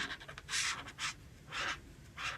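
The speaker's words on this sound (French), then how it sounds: "Ensuite avec le GY1, on va venir du coup colorier le reste de la zone." A marker colours paper in a Coco Wyo Christmas colouring book, making soft, rhythmic scratchy strokes in short repeated bursts that are close and quiet, with no talking.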